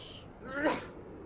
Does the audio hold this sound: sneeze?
yes